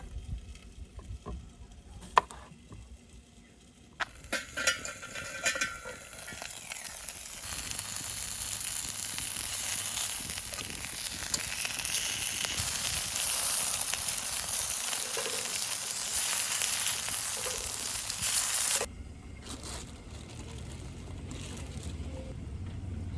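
Potatoes sizzle in a pan on a camping stove outdoors, a broad steady hiss rising after a few clicks and knocks and running loud and even for about fifteen seconds before cutting back to quieter handling sounds.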